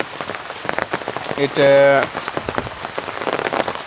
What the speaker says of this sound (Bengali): আমাদের এদিকে খুব বেশি বৃষ্টি হচ্ছে।